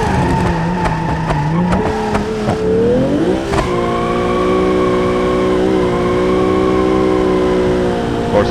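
Car engine revving in the BeamNG driving game during a clutch-kick drift, the pitch sagging then surging back up as a steady, loud engine drone with brief tire noise early on.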